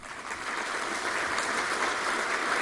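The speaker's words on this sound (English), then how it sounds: "I would like to gather a round of applause for our president who is present with us" An audience applauding a president in a hall, a steady wash of many hands clapping throughout at moderate volume, with no voices over it.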